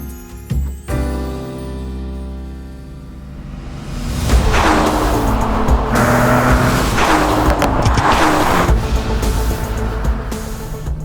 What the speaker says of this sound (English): This is the Alpina B3 Touring.